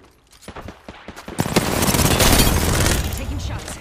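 Video game gunfire erupts in a loud, sustained burst of rapid shots and impacts after a few sharper single cracks, with game voice lines heard alongside.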